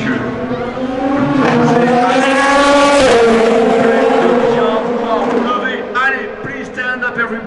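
A Ferrari 499P hypercar at the centenary Le Mans 24 Hours races past with a loud, sustained engine roar that swells and then recedes, as a crowd and announcer are heard over it.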